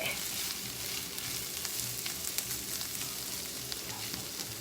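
Tempeh sizzles and crackles steadily in a hot pan, a dense, crisp frying hiss with occasional sharper pops.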